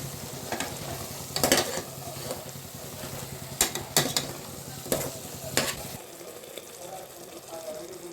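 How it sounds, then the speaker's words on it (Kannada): Mushrooms fry in a pan for a mushroom pulao, with a soft steady sizzle broken by several scraping stirs, then quieting near the end. "ಎಲ್ಲ ಬಿಟ್ಕೊಂಡಾದ್ಮೇಲೆ ಇಟ್ಕೊಂಡಿರೋ ಮಶ್ರೂಮ್ ಹಾಕೋದು. ಫ್ರೈ ಮಾಡಿ"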